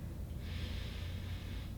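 A deep nasal inhale during a relaxed yoga breathing exercise, one long steady airy draw lasting over a second, close and fairly loud.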